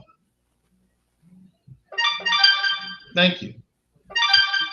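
A phone ringtone goes off in two bursts of bright, repeating electronic tones, loud and close, with a brief spoken phrase between them.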